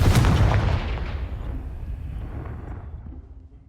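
A Confringo explosive spell goes off in the Hogwarts Legacy video game: a loud, booming blast at the start that rumbles and slowly fades away over a few seconds.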